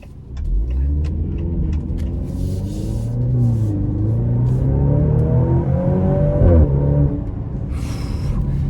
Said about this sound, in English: that bark on the upshift is all you could ask for.